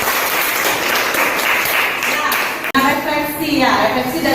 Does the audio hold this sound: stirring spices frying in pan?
no